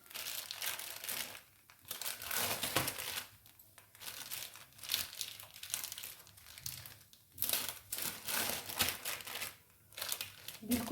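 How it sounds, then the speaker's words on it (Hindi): A thin plastic sheet is turned and crinkled gently during cooking, giving continuous soft crackling in uneven bursts with brief pauses, close by. "बस पन्नी को हल्के हल्के से घुमाते रहेंगे।"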